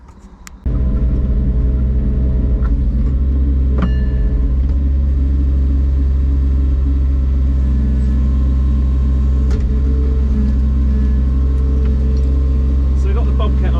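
Bobcat E19 mini digger running on a stockpile, its engine a steady loud rumble with hydraulic whine and occasional clanks, close by.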